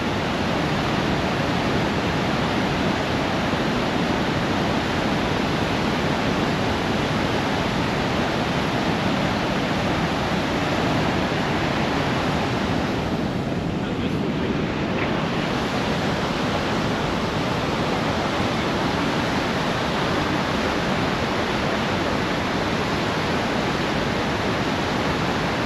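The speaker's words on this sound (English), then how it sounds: "Let the sound soothe your soul. Observe the power of its interlocking waves." Ocean waves breaking in a loud, continuous roar of surf, broad and rushing, with a brief swell of extra wash in the middle and no voices.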